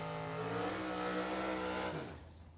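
A drag racing car at Firebird Motorsports Park spins its tires on launch: a loud, close engine roar holds steady for about two seconds, then cuts off and fades away.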